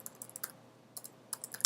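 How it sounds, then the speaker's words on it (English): Keys clatter on a computer keyboard as a website address is typed, in quick bursts of clicks separated by a short pause, fairly close and with no talking. "I'm typing in my own site."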